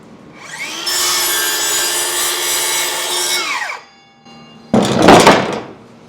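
Power saw cutting wood for an HO-scale model railroad layout, a loud steady whine of about three seconds that winds down, followed by a shorter, rougher burst of cutting.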